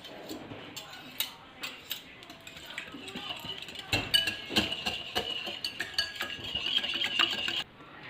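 Sauce and vinegar being stirred together in a bowl with a utensil, giving light, irregular clinks and scrapes that grow busier toward the end, close and fairly quiet with no talking.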